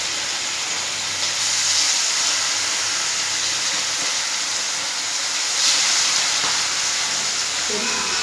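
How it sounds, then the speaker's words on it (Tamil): Fish frying in hot oil, a loud, steady sizzle and hiss that carries on without a break, swelling slightly now and then. "மீன் பொரிக்கிறதுக்கு எண்ணெய் விட்டுக்கோங்க."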